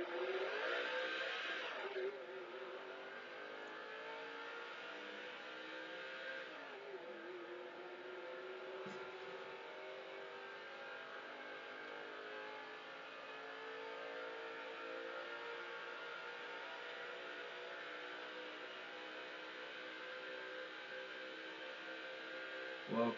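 A race car engine in NASCAR 2005 video game drones steadily at high revs, with a louder surge at the start, then holds a sustained whine for the rest of the stretch.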